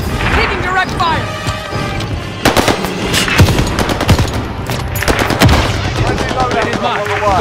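Gunfire in Call of Duty Warzone on Rebirth Island with SIG SG 550 and B&T APC9 K weapons, rapid bursts of automatic fire and sharp shots, loud and close, with in-game radio voices and chatter underneath.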